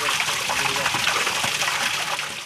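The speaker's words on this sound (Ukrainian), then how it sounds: "Вода в купіль надходить із криниці, яку живить джерело." Spring water fed from a well pours into a bathing font in a continuous, splashing gush. The flow is close and fairly loud, with a steady trickle and spatter throughout.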